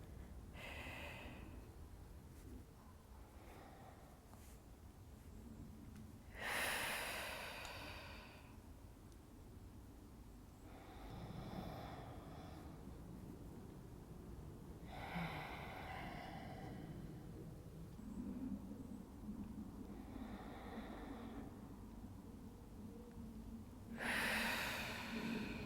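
Slow, deep breaths, some forceful through the nose, repeat at intervals of several seconds over a quiet, steady background, close and fairly soft, with no talking.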